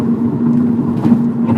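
A Peugeot 308 GTi engine pulls at full throttle on an open road, a loud, steady droning note heard from inside the car, briefly and without speech.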